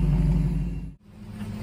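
A gasoline-engine car gives off a low, steady rumble that briefly drops out and then resumes as the car pulls away, heard fairly quietly without talk.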